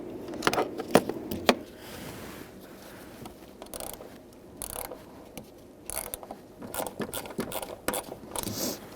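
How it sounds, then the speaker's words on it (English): Bolt being started through a bracket inside a 2000-2007 Ford Taurus, close metallic clicks and rattling taps in irregular bursts, with quiet gaps between. "I'm going to start my bolt through the bracket first."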